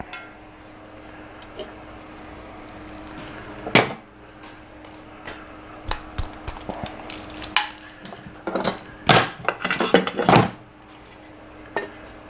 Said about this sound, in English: It's a 15mm bolt back here on the side of the head. Just going to take that bolt out.